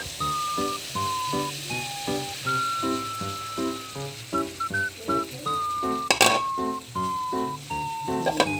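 Beaten, lightly salted egg sizzles as it fries in a pan, with a soft continuous hiss broken by light utensil clinks, and a melodic tone running in the background.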